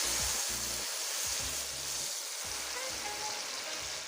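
Boiled jackfruit seeds and lentils sizzle loudly in a hot pan with dry chili for a North East Indian dal fry, a steady crackling hiss broken by soft rhythmic knocks of stirring.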